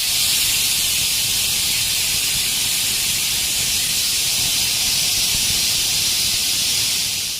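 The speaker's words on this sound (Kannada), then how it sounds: "ನೋಡಿ ಇವಾಗ ವಿಜಿಲ್ ಫುಲ್ ಪ್ರೆಷರ್ ಬಿಟ್ಟಿದೆ." A pressure cooker cooking pea pulao lets off a loud, steady rush of hissing steam that holds unbroken for several seconds, close and with no talk over it.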